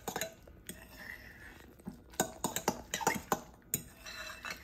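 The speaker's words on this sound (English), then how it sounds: "Just stir that around." Utensil scraping and clinking against a dish while stirring parmesan cheese into a zucchini sausage bake mixture, a run of close, irregular taps and scrapes with no talk.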